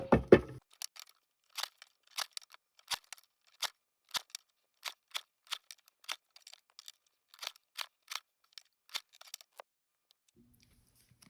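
Scissors cutting through printed business card sheets, with crisp separate snips at an irregular rhythm of roughly one to two per second, close and clear, heard alone after a brief bump at the start.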